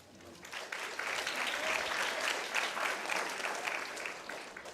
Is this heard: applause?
yes